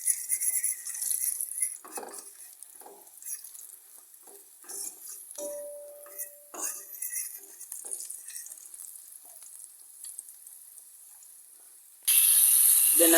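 Pot stirring while cooking curry tinned mackerel and ackee over slow heat: scattered scraping and clinking of a spoon against the pot with soft sizzling, a brief tonal ring midway, fairly quiet and without talk.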